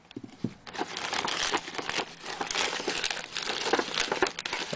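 Crinkling plastic and paper packaging of an eBay parcel being cut open and pulled apart, a close, steady run of crackling and tearing rustles with no talking.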